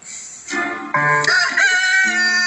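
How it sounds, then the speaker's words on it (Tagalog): A rooster crows nearby, loud harmonic calls stretched into a long cock-a-doodle-doo with a drawn-out final note. "Ang unang tiktilaok."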